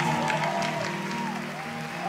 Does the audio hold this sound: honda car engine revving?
no